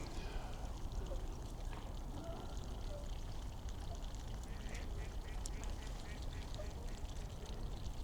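A flock of ducks quacks repeatedly at a waterside in Morioka, the calls moderately distant over a steady wash of water and outdoor noise, with a voice talking at times.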